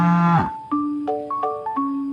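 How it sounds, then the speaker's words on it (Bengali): A cow moos in one brief, falling call, followed by a string of bright, ringing musical notes. "গয়ে গরু"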